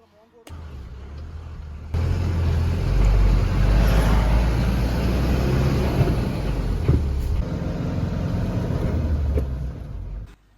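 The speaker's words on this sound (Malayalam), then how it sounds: "ഇനി ഇവിടുന്ന് നാട്ടിൽ വരെ അമൃതേശാണ് വണ്ടി ഓടുന്നത്." A lorry drives along a road near Mysore, its engine drone and tyre roar steady and loud from the cab for most of the stretch, rising after a quieter start and cutting off at the end.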